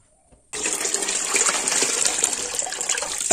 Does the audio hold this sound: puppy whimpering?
no